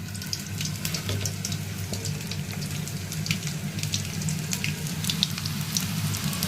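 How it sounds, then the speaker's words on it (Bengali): Cabbage pakoras frying in mustard oil, a steady loud sizzle and crackle that runs continuously with no pauses and no voices. "এখানে সরষার তেলে ভাজতেছি, এত ঝাঁস করতেছে সরষার তেলে"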